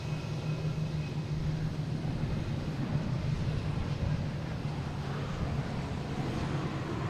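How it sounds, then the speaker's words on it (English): A United Boeing 737 MAX 9 lands at Boston Logan, with a steady, loud, low jet-engine roar that continues through the whole stretch without any talking. "United here, coming in from San Francisco. 737 MAX 9"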